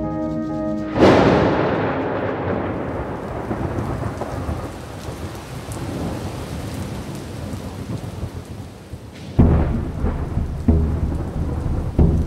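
A thunderstorm with steady rain falling, a loud thunderclap cracking in near the start and rumbling away, then another heavy roll of thunder late in the stretch, all over constant rain noise with no voices.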